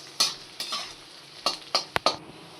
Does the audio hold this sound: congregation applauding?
no